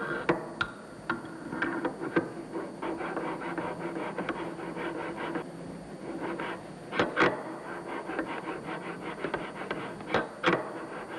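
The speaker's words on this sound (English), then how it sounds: "Finally, the valve housing's mating surfaces are ground as well." The mating surfaces of an uncooled fuel valve housing are hand-ground, giving a continuous rasping rub broken by sharp ticks and knocks, close and moderately loud with no voices.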